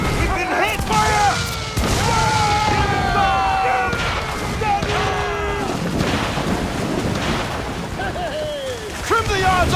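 Ship mortar fire and cannon hits in a naval battle from the Assassin's Creed Freedom Cry game, loud booms and crashing impacts among wind and sea noise, with shouting crew voices throughout.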